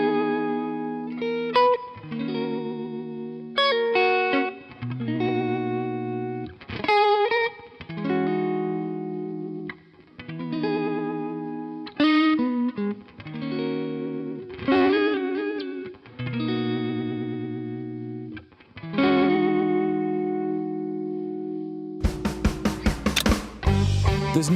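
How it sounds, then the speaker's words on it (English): Electric guitar played through a Behringer 69 Vibe Univibe effect pedal, with chords and riffs carrying a swirling, throbbing modulation, close and clear, and a burst of rapid strummed notes near the end. "Get the iconic Univibe sound with 69 Vibe."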